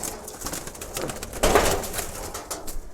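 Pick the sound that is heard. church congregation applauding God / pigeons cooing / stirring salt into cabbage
pigeons cooing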